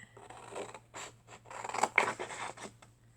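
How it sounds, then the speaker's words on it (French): Scissors snip and scrape through paper with a series of short, close cuts made on a diagonal while shaping a box, over a faint steady hum. "Donc, on coupe en biais."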